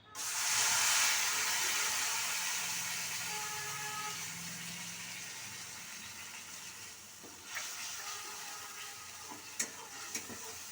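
Onion paste and green chili paste frying in oil spiced with cardamom and cinnamon, a steady close sizzle and hiss that eases slowly, with a few light clinks of stirring toward the end.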